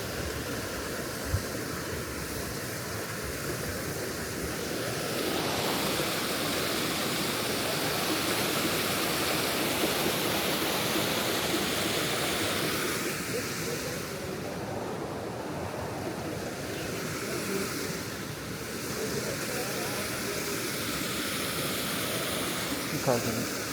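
Steady broadband roar of the Ilıca waterfall in Horma Canyon, Kastamonu, heard continuously and fairly close, with the rushing noise rising and falling slightly over time.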